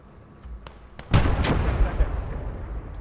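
Artillery gun firing in the World War I strategy video game Motherland, a sudden loud boom that swells and rolls off into a long rumbling decay, preceded by faint distant thuds.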